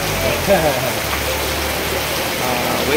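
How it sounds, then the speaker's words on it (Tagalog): Heavy rain pours down in a dense, constant hiss that stays loud and even, with no pauses and no voices heard. "Napakalakas ng ulan, Russell."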